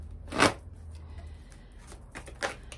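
Tarot cards are shuffled close by, with a loud riffling burst near the start, softer rustles through the middle and a second clear riffle near the end.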